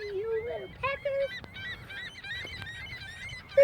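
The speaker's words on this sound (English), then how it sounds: "There's seagulls and then there's some other kind of birds with black heads." Gulls and black-headed birds calling on a beach, a run of repeated honking, squawking cries, fairly close and moderately loud over low wind rumble.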